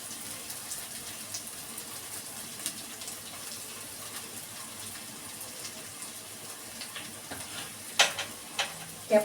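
Chopped onions and capsicum frying in hot oil for an egg paneer roll, a steady soft sizzle throughout with a few sharper crackles and stirring knocks near the end, no voices.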